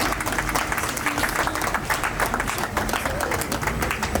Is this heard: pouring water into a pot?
no